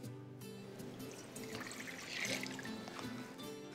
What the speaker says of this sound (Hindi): अब लेते हैं बड़ा बोल, इसमें डालेंगे पानी।